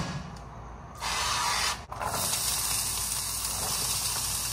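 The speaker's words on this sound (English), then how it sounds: "Spray this pan with avocado oil." A short burst of aerosol avocado oil spray hisses into a pan, then a longer steady hiss runs to the end, close and fairly loud.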